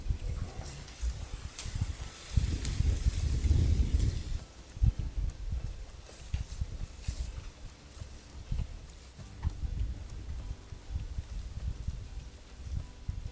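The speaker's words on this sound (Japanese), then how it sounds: "床下にあった笹をヤギにあげます。" Goats eating bamboo grass leaves found under an old farmhouse floor, with close rustling and crunching of leaves in uneven bursts, busiest early on, and faint chewing between.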